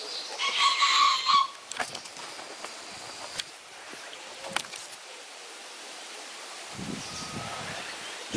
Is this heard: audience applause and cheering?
no